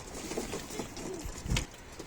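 Soft, low cooing from several pigeons close by, with rustling and a brief flutter in the middle.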